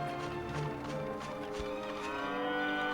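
Cow mooing in the video game Dragon Quest VIII, a drawn-out, fairly loud lowing call lasting several seconds over steady game music, with no talk.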